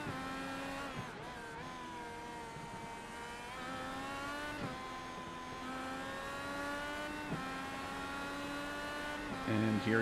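A sim IndyCar engine in an iRacing Detroit Belle Isle race drones steadily at high revs with stable harmonic pitch, shifting slightly through gear changes as the car passes start-finish, heard under faint commentary.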